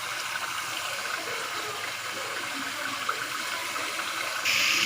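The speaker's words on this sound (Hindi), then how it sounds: "अब मैं इसमें तकरीबन 1 गिलास पानी शामिल करेंगे।" Water pours steadily into a pot of chicken curry cooking in oil, a continuous gushing splash close by that swells louder just at the end.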